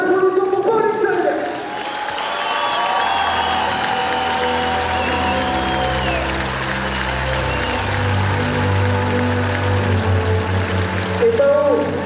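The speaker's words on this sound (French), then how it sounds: "des applaudissements pour Pauline Sadek" Sustained applause fills the hall for Pauline Sadek at a basketball jersey retirement ceremony. Dense clapping holds steady for several seconds, with talk at the start and end, and music and crowd murmur underneath.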